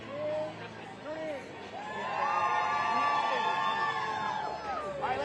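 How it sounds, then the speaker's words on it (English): A crowd at a live event cheers loudly on cue, a swelling roar of shouts and whoops that builds and holds for several seconds, with a single voice speaking over it at the start. "I want y'all to give me the biggest cheer ever"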